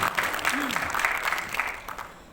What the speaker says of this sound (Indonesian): Kita tepuk tangan bagi acara kita.